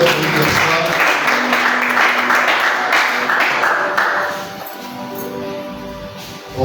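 A church congregation breaks into loud, sustained applause and cheering that stays full for several seconds, then thins and fades toward the end.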